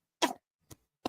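A person coughs close by: one longer, rough burst, then two short single coughs separated by silence, with no talking around them.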